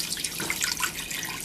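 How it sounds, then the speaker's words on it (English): Water runs steadily from a tap into a cooking pot holding cleaned chicken for Puerto Rican pasteles, a continuous close splashing stream with no talk. "I'm gonna come and start adding my water."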